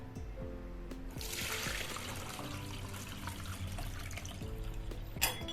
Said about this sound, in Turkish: Şimdi bayağı beklettiğimiz aromamızı süzeceğiz. Şu şekilde süzgeç yardımıyla.